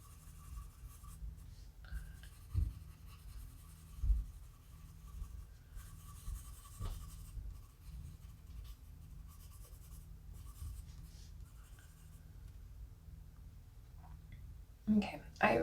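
Colored pencil scratching and rubbing across paper in a light, steady layer during a spring-themed coloring session, with soft continuous strokes throughout and a few louder taps and handling noises near the end.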